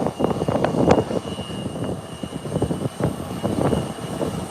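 ATR 72 turboprop airliner on the runway at Howard Hamilton International Airport in the Turks and Caicos Islands, a loud continuous propeller and engine drone that swells and holds throughout.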